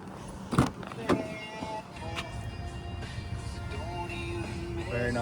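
Power windows on a 2007 Lexus RX 350 luxury SUV, a couple of sharp clicks followed by a steady electric motor whine as the glass moves, heard up close inside the vehicle.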